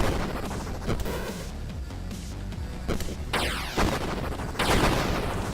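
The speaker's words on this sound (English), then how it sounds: "I'm trying to see what I can destroy exactly with this rocket launcher." Rocket launcher blasts and crashing destruction in the run-and-gun roguelite game Still Not Dead, a dense run of loud booming explosions and rubble bursts coming back to back, with no talking.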